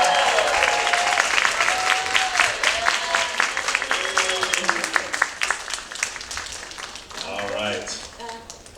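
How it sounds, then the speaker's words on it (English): Audience applause at a special needs talent showcase: steady, dense clapping from a sizeable crowd that rises and then thins, with scattered cheers and voices mixed in. "All right, a round of applause."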